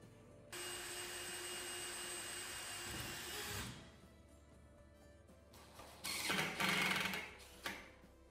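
A drill bores pilot holes for a storefront door closer arm, giving a steady whining run of about three seconds, followed by quieter handling noise and a couple of short, louder bursts near the end.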